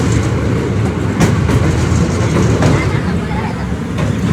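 Train pulling into Ujjain station, a loud, steady rumble with rhythmic clickety-clack of wheels on rails close by, continuous throughout with faint voices underneath.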